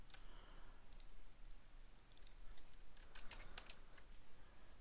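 Mouse clicks while working in Cinema 4D, several sharp, faint, close taps at irregular intervals, spread out and then bunched near the end, over a quiet room hiss.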